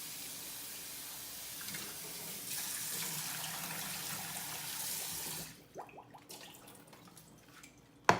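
Water running from a tap over rabbit greens being washed, a steady close hiss that shifts as the flow changes, then stops into scattered drips and a final knock.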